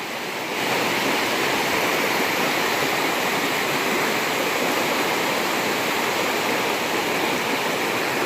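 A wilderness river in the Catskill Mountains rushes steadily, a loud, dense, unbroken roar of flowing water that holds constant throughout with no voices.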